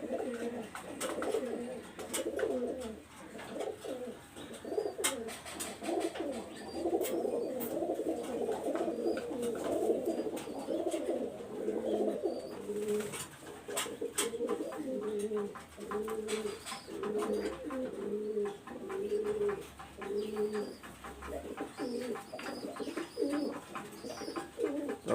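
Soft, rolling coos come again and again from a male Tiger Dove Kamagar pigeon kept among other pigeons, nearby and fairly quiet, continuing in steady bursts with a faint background hum.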